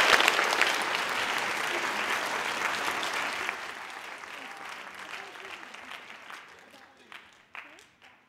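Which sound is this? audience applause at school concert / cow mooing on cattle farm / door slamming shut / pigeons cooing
audience applause at school concert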